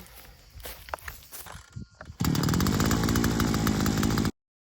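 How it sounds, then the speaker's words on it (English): A string trimmer (weed whacker) on a farm starts up partway through and then runs steadily and loudly at close range with a high whining buzz, preceded by shuffling and handling noise. "I think my whacker has cooled down enough."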